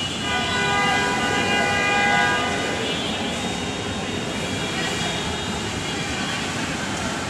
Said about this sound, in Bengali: তো এইখানে আরেকটা অন্য একটা ট্রেন আছে, এই যে দেখা যাইতেছে।